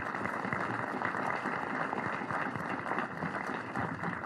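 Audience applause for the Gilbert and Kabete Deanery team at a Catholic deanery family day at St. Mary's School, a steady, dense wash of clapping filling the space with a faint crowd murmur underneath.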